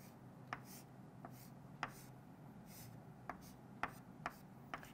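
Pen or marker writing a chemistry formula on a board or paper, a soft continuous scratching with a few sharper taps as strokes start, faint and close over quiet room hiss.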